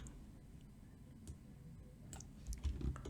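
Computer keyboard typing while entering a spreadsheet formula in Excel, a quiet run of irregular light clicks and ticks, faint at first and growing a little louder and busier toward the end.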